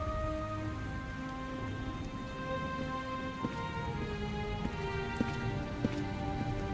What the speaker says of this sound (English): This rain reminds me of something.